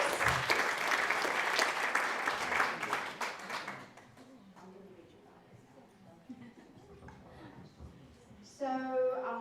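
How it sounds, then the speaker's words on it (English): Applause from an audience at an International Women's Day event in Melbourne, welcoming a councillor to speak: a dense, close burst of clapping fades out after about four seconds, then a voice speaks. "Please give her a round of applause."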